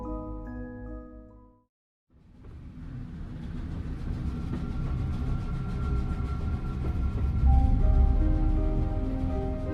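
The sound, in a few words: train riding sounds from video game The Room Three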